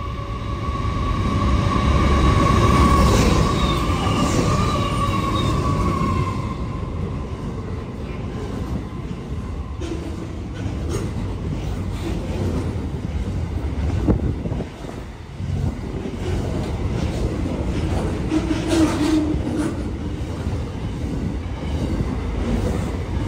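A train passes through Picton station with a loud, sustained rumble and rattle of wagons, a high tone early on, heavy wind buffeting the microphone throughout and the roar easing slightly toward the end.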